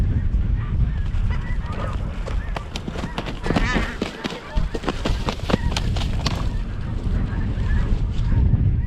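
A large flock of snow geese honking during a hunt, dense overlapping calls rising and thickening overhead, loud and near, with people talking now and then beneath the chorus.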